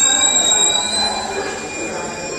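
A train pulling into Dwarka railway station, its wheels squealing with high sustained metallic tones over a steady rumble, loud and close throughout.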